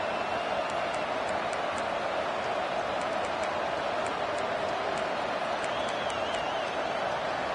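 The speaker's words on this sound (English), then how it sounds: "This crowd, full throat, spreading the eardrums and letting them know it's going to be a long day." Stadium crowd at a college football game, a broad, sustained roar that holds steady and fairly far off throughout, with faint whistles and no clear breaks.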